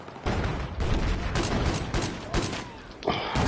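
Rapid video-game gunfire in a multiplayer shooter on PS4: dense, continuous bursts of shots, loud and close, with sharper cracks standing out near the end.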